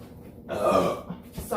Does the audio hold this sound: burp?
yes